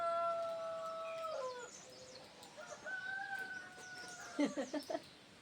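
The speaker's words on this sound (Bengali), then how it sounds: "এখানে হচ্ছে মুরগির ডাক শুনতে পাচ্ছ।" Chickens at a hillside village on a cloudy morning: a rooster's drawn-out crow followed by a second rising crow, then a quick run of clucks near the end, moderately distant over quiet outdoor ambience.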